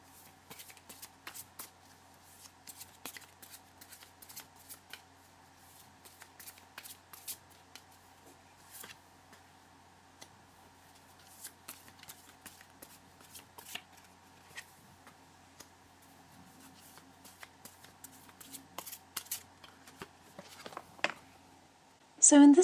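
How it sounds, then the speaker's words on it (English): Tarot cards are shuffled close by in quiet surroundings, a run of soft crisp riffling flicks and taps spread across the stretch, ending with a louder handling noise. "So we're just going to give these cards a shuffle and they're falling all over the place here."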